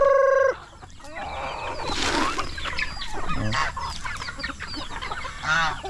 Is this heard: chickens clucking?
yes